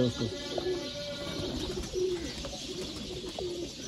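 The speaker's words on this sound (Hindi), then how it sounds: "ये वाला कसूरी कबूतर है" A Kasuri pigeon coos close by in soft, repeated throaty calls over a light background murmur.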